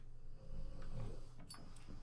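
A puppy snores softly in the Kill It With Fire video game, a low, faint rasping breath with a brief growly rumble, alone and close.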